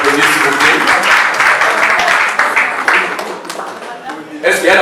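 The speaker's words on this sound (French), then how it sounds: "Est-ce que j'applaudis s'il vous plaît?" Applause from a crowd at a religious wedding ceremony, dense clapping sustained throughout, loud and fairly close, with voices mixed in.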